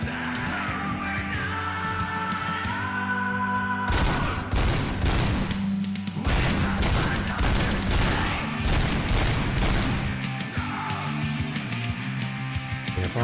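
Rapid bursts of gunfire from the Robocop: Rogue City video game, loud and dense, with shots rattling over a steady game soundtrack and occasional shouts.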